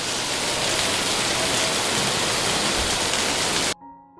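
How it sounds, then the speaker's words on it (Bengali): Rain pours down loudly at a market with its shops shut, a dense, steady hiss of drops that cuts off abruptly near the end, leaving a faint tonal hum. "এরই পর শুরু হয়েছে বৃষ্টি"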